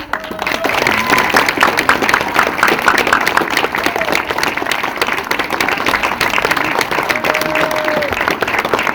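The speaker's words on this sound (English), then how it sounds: "we're going to give you another round of applause" Loud, sustained applause from a large audience at a school Christmas program, dense clapping that holds steady throughout, with a few faint whistles and voices mixed in.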